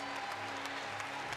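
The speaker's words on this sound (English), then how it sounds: "And applause right around." Arena crowd applauding at the end of a ONE MMA fight, a steady wash of clapping and cheering that holds evenly through the short moment.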